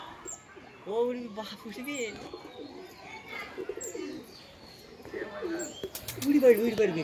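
Pet pigeons, including two young birds, coo softly in repeated low, rolling calls, with someone talking over them and a brief flutter of movement.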